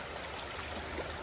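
River water flows in a soft, continuous rush, a faint and even wash of noise with no breaks, no distinct splashes and no voices.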